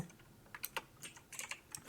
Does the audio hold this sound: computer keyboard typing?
yes